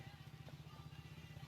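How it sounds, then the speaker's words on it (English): A neighbour's motorbike engine rumbles faintly in the distance with a low, pulsing throb that stays steady and quiet throughout. "Our neighbour is on his motorbike, which is the noise you can hear over there."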